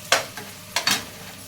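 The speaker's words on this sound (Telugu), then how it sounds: "త్వరగా వేగిపోయిందండి." Fenugreek leaves frying in a pan as they are stirred, four short bursts of spatula scraping over a soft background sizzle, close and fairly loud.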